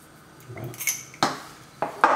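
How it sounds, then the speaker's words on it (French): Guacamole ingredients mashed in a bowl, a handful of sharp clinking knocks of utensil against the dish at uneven intervals, close and loud, with softer scraping between them. "Et on commence à bien écraser le tout"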